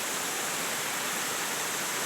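A small hillside waterfall swollen by monsoon runoff rushes steadily, a constant close wash of falling water with no break or voices.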